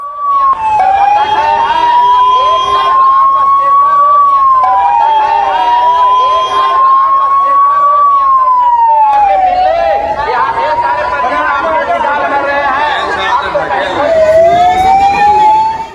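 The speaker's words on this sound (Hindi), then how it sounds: "मौके पर एम्बुलेंस बुलाई गई, एम्बुलेंसेस दौड़ना शुरू हुई अशोकधाम से अस्पताल की तरफ" Ambulance sirens wail continuously, loud and close, as ambulances race from Ashokdham to the hospital after a temple stampede in Lakhisarai, Bihar, with crowd noise beneath.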